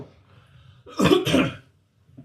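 Two harsh coughs, close and loud, come one right after the other, followed by a brief quiet.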